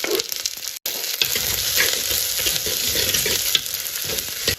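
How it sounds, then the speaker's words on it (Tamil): Onions, chilies and curry leaves hit hot oil in a clay pot, with a loud, steady sizzling and crackle that briefly cuts out near the start and then continues with stirring, with no voices. "இப்போ வெங்காயத்தை போட்டுடலாம். அது கூட மிளகாயும் கறி லீவ்ஸையும் போட்டுடலாம்."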